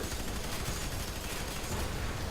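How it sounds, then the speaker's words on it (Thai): Gunfire in the video game F.E.A.R. 3, a dense, continuous burst of rapid shots with a broad, noisy crackle, moderately loud and with no talk over it. "กูยิงจนจนหมดกระสุนอยู่แล้ว"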